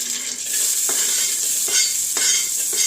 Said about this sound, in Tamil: கடுகு நல்லா உடஞ்சதும் கருவேப்பில அப்படியே போடணும்